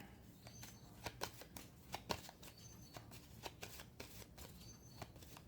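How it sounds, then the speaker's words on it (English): A deck of board-game cards is shuffled, its crisp riffling ticks and soft slaps coming close and fairly quiet in uneven bursts, with no voices. "I'll shuffle this back in."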